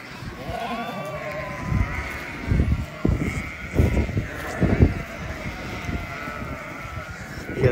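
Sheep bleat repeatedly out in a cold open field, several loud nearby calls coming in uneven bursts over steady outdoor background noise, with no talking over them.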